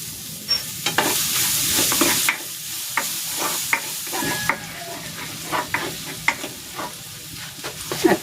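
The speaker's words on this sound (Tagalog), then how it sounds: "Magigisa na ako ng bawang." Garlic sautés in a hot pan for a pork menudo with pork liver, a steady sizzle running under repeated scraping strokes of a spatula, close and fairly loud, with no talking.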